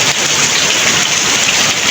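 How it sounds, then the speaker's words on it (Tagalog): Heavy rain pouring in Bicol, a loud, dense, steady hiss of downpour close by without pause or talk. "Ayan, ulan pa rin ngayon, eh."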